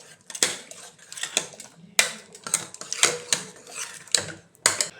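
Cooked cucumber and jackfruit seeds being mashed in a pressure cooker, heard as repeated close metallic scrapes and knocks of a utensil against the pot in an irregular rhythm.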